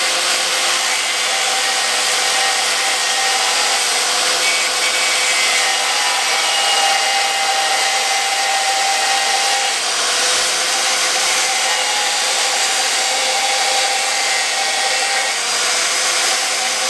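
A loud, steady high-pitched whine of a spinning cutting disc grinding through material, continuous and harsh throughout.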